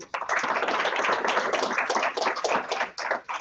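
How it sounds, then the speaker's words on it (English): An audience gives a warm round of applause for Dr. Paula Aboud, a dense, steady patter of many hands clapping for a few seconds before thinning out. "thank you for a warm round of applause"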